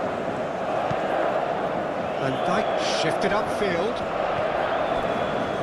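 Stadium crowd noise in a FIFA football video game simulation of a Netherlands versus Sweden World Cup match, a steady roar with a brief swell of cheering, under continuous commentary.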